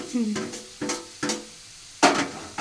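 Brinjals and prawns frying in a masala curry, with four distinct sizzling bursts as ingredients hit the hot pan or are stirred, each fading quickly, close and fairly loud.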